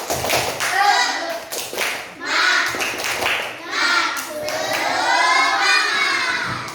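A class of schoolchildren claps in quick rhythmic bursts while chanting loudly together, the claps mixed in with their shouting voices.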